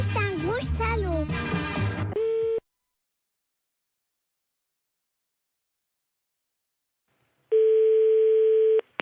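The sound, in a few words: telephone line ringing before call is answered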